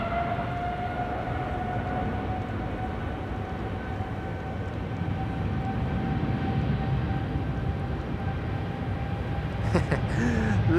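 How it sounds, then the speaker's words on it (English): A KLM airliner spools up on the Polderbaan threshold at Schiphol. A steady, droning jet whine with tonal hums builds gradually over broadband roar, distant and continuous. "The KLM Flight 603 to LAX is lining up here in the foreground on the threshold of the Polderbaan."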